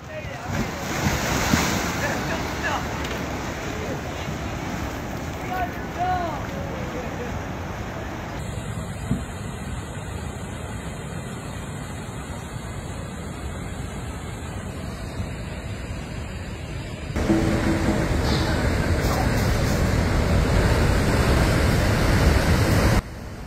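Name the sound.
ocean waves and surf during storm, California coast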